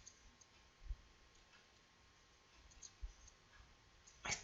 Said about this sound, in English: I got to click on the color.